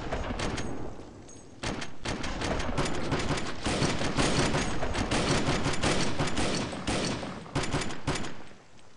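Dense, close gunfire in DayZ, with rapid shots crowding together into near-continuous bursts and a brief lull partway through, loud and unbroken by talk.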